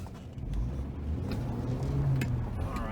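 A 2006 Chevy Trailblazer LT 4x4 pulls away in drive, giving a quiet, low engine rumble with a soft, steady road sound throughout.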